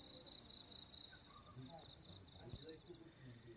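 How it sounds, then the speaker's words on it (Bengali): Crickets chirp in a steady high trill at night in Daragaon, a remote hill village near Kalimpong, faint and continuous with brief pauses under a quiet rural backdrop. "আমি যদি একটু চুপ করে যাই দেখো ঝিঝি পোকার আওয়াজও শুনতে পাবে।"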